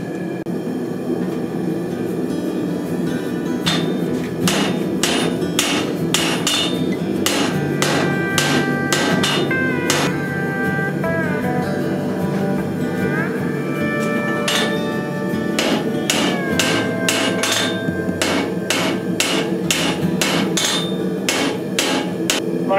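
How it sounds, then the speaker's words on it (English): A big hammer pounding 5160 steel onto bandsaw blades during forge welding, with loud rapid ringing strikes in fast bursts over a steady roar, a brief pause midway, then more rhythmic blows. "I'm going to get this big hammer and I'm going to wail"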